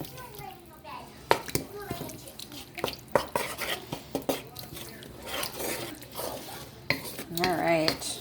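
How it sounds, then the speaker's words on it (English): A utensil stirs and scrapes a tomato paste mixture around a wok with repeated clinks and taps against the pan, while a person talks over the cooking noise. "And then I'm going to go ahead and mix this up together."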